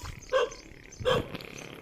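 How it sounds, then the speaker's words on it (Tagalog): A dog barks twice, a short pause between the two yelps, fairly faint and somewhat distant over low background noise. "So, may aso, may aso. May dog."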